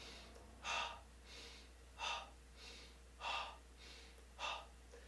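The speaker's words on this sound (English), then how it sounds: "We continue with this breathe, inhale, breathe, exhale, sharp exhale." Sharp, forceful exhales during yoga breathing practice come at a steady rhythm, roughly one a second with softer inhales between, close and fairly quiet against a low steady hum.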